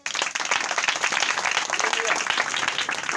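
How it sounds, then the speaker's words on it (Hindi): A church congregation breaks into loud, sustained applause, dense clapping from many hands filling the room steadily, with voices mixed in beneath. "जोरदार ताली हो जाए।"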